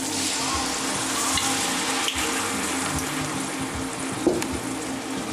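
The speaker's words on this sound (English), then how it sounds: "I'm going to deglaze the pan with about 1/4 cup of wine" Onions sizzle and fry steadily in a pan after a splash of wine for deglazing, a loud, constant hiss with a couple of brief clinks, no talking.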